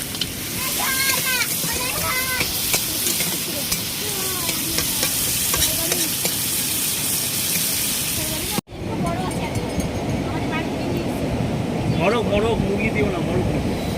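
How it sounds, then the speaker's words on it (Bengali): Crab is stirred and sautéed in spice masala with a steady sizzle and spatula scraping, briefly cut off midway and then resuming, while people talk over the cooking. "ফাইনাল স্টেজ, কাঁকড়া দিয়ে দিয়েছে, এবার কষাবে সুন্দর করে বেশ।"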